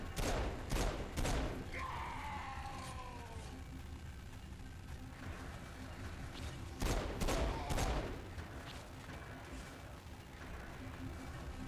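Gunfire in the video game Saints Row: The Third, with loud bursts of rapid shots at the start and again midway over continuous game noise and rumble.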